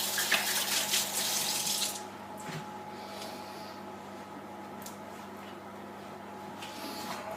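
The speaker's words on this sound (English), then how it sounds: "you probably need to wash your hands again." A kitchen tap runs in a steady, close splash while hands are washed in the middle of making scones. The water stops after about two seconds, leaving quiet room tone with faint clicks.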